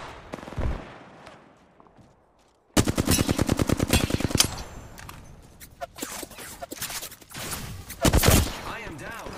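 Gunfire in the video game Apex Legends: a scattered shot early, then a rapid automatic burst and further volleys of shots, loud and close, with a player's voice in the background.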